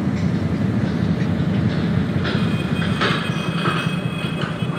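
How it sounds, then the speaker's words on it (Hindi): A simulated South Bihar express train in MSTS Open Rails rolls steadily along the track toward the Rajendra Nagar platform, giving off a continuous loud rumble with faint clicking and a light squeal, with no voices. "ट्रेन रुक गई है।"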